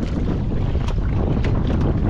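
A misfiring boat engine at sea on the Pacific gives a steady, loud rumble mixed with wind buffeting the microphone, with a few faint clicks and bumps on top.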